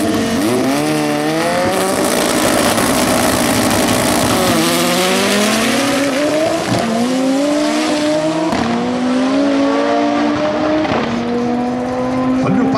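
Fiat Marea DTA drag car accelerating down a 402 m strip: a loud, sustained engine roar climbing through repeated gear changes, each shift briefly dropping the pitch before it rises again, close and with no speech.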